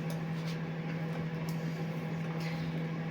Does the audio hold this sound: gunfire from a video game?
no